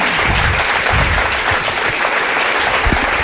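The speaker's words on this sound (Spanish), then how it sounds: "Un aplauso os pido para él también." A large audience applauds loudly and steadily, dense clapping filling the whole moment without pause.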